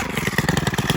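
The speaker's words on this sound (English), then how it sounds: "We have the Stihl gas powered. I'm gonna fire it up and then see what the idle's like" A Stihl gas-powered string trimmer engine idles close by, a rapid even putter of pulses throughout the short stretch with no talk.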